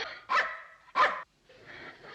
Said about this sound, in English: One thing I can't stand, it's a rude dog.